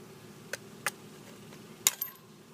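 Metal snips biting into sheet metal along a marked line, with a few sharp, separate clicking cuts spaced unevenly, close and fairly quiet, and no talking.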